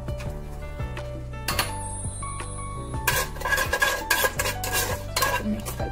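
Whole spices, bay leaf and cumin are stirred into a metal cooking pot for prawn biryani, with repeated clinks and scrapes of a spoon against the pot over a low hum.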